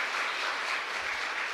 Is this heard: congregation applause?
yes